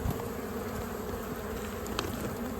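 Honeybees swarm around a trap holding a yellow queen, a steady close buzzing drone that continues without pause for a few seconds, with no voices present.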